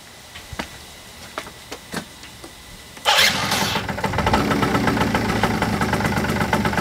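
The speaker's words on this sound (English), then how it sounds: "I'll just start the bike." Yamaha BW50 scooter, after an oil leak repair, cranks with a few faint clicks and then catches, settling into a steady loud buzzing idle, close by with no talking.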